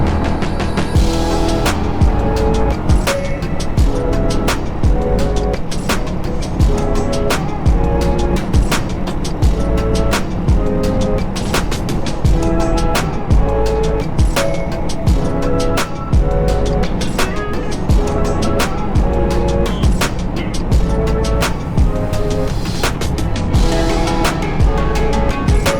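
A Yamaha YZF R125 motorcycle out on a ride, its engine droning continuously with steady pitch changes through the gears and recurring sharp clicks, loud and close throughout.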